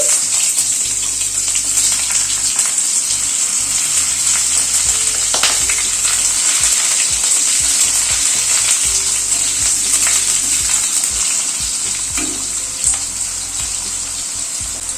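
Potato pieces fry in hot oil with tempering spices such as fenugreek seeds, a loud, steady sizzle up close, broken now and then by stirring scrapes and small knocks, with no talking.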